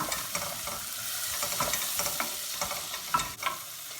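Butter sizzling in a hot pan at home, a steady close crackling hiss with dense spitting pops throughout, alone without voices.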